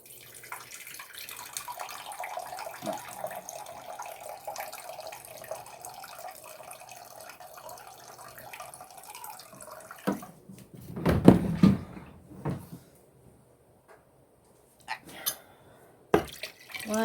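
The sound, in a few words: water running from a tap into a measuring cup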